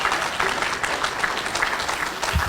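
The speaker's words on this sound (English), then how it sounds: "I think we ought to give Craig a round of applause" Steady crowd applause fills a Hall of Fame induction ceremony for the American Football Association, an even, sustained wash of many clapping hands at moderate distance with no break.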